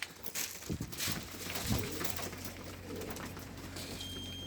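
Young homing pigeons coo softly at the loft, a low, murmuring call repeated over a steady hiss of background noise and light movement, with no voices.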